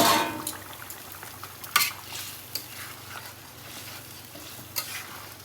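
Rohu fish frying in a pan, a soft continuous sizzle with intermittent scrapes and clinks from stirring, including a sharper knock near the start, close and moderate in level, no voices.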